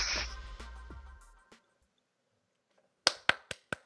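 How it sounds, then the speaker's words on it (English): A few light, sparse claps sound close by in a quiet room, a slow golf clap of about four separate hits after a fading bit of speech. "Golf clap for Alex."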